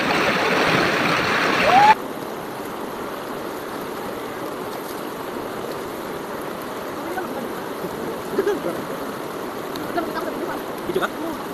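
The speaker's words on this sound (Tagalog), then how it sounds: "Lakas ng agos ah." A strong river current rushes steadily nearby during a summer family outing, a constant full wash of flowing water with a louder burst at the start and faint voices around.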